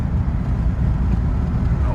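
Jeep with a freshly checked transmission driving on the road, a steady low engine and road rumble continuing throughout with no clear break for a shift.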